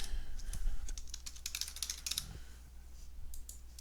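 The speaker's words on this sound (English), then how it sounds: "type in my email here" Brisk, close clicking of fingers typing an email address on a computer keyboard, an uneven run of keystrokes that thins out toward the end.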